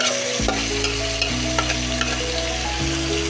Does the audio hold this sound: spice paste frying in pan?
yes